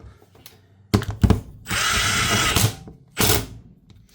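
A power tool drives Torx T40 bolts while a part is installed on a Honda Rancher ATV, with short whirring bursts, a longer sustained run and a final burst, close and loud and separated by brief pauses.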